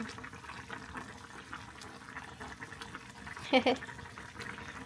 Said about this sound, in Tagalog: Yung pinakulo ko na tubig, itataktak ko dito sa kamuting kahoy.